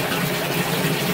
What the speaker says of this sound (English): Look at the water we're moving.